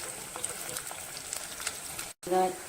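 Small shallots and garlic sautéing in oil in a pan for a sardine fish curry, a steady close sizzle and crackle with faint stirring, briefly cutting out before resuming.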